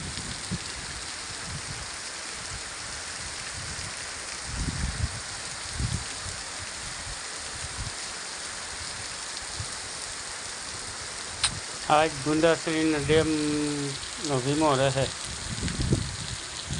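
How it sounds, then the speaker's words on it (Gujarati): Heavy monsoon rain pours steadily over fields beside a brimming village dam, a dense continuous hiss that carries under a voice speaking near the end. "આજ કલાક એકથી આવો ને આવો વરસાદ પડે છે."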